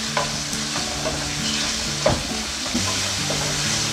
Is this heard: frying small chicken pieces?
yes